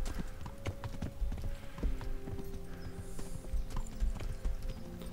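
Horse hooves clip-clop steadily while riding in the video game Kingdom Come: Deliverance, a close, even walking rhythm with faint mechanical clicks and no talking.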